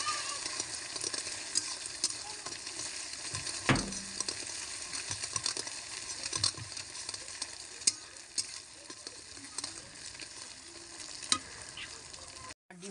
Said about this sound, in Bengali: ফেটানো ডিমটা দিয়ে দেবো। এর মধ্যে দিয়ে ঝুরঝুরি করে ভেজে নেব।